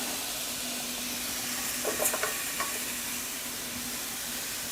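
Chopped red peppers hitting hot oil for a Mexican casserole give a soft, steady sizzle and hiss, with a few brief clinks partway through.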